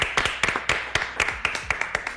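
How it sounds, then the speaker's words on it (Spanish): A small group claps for the staff of the Hospital Español in Mendoza, with about a dozen distinct, fairly close, uneven hand claps that sound sparse rather than like a full ovation. "Este aplauso es para toda la gente del Hospital Español."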